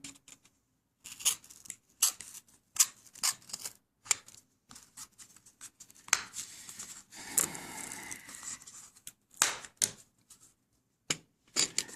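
Scissors trimming a paper cup for a homemade cardboard VR viewer, a series of sharp, close, crisp snips and crinkles in irregular bursts separated by quiet pauses.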